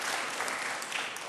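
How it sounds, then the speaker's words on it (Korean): Brief burst of steady applause from a church congregation welcoming visiting family members during a Sunday worship service, dense clapping filling the room with no voices over it. "우리 박수로 한번 환영하시겠습니다"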